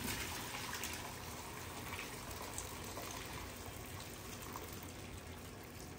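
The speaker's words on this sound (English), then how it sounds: "Usually I let this cool a bit, but I'm gonna try to pour it in here." Hot homemade chicken broth pours steadily into a crock pot, a continuous close liquid gush and splash with no pauses, carrying on for several seconds without talk.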